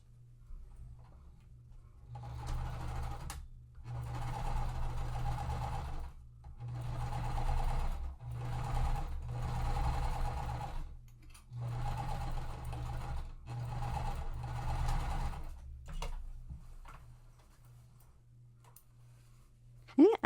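A sewing machine stitches quilt pieces in several long bursts separated by short pauses, its steady motor hum and rapid needle chatter close and clear, winding down to quiet at the end.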